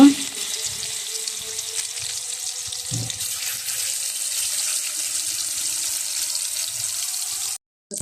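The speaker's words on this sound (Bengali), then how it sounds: "কড়াইতে আমার গরম হয়ে গেছে, আমি তেল দিয়ে মাছটা দিয়ে দিচ্ছি" Fish sizzles in hot oil in a wok, a steady close hiss that runs almost unbroken and cuts out briefly near the end.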